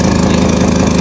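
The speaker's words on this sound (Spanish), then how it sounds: "acelera Jaime para que vean el problema" A small Honda Elite scooter engine with a fault that makes it bog down runs loud and close with a rapid, pulsing rattle, holding a steady rough idle rather than climbing in pitch.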